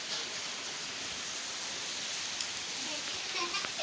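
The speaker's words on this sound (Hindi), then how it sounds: "बारिश बहुत तेज आ गई है" Heavy rain pours down in a steady, dense hiss with no pauses.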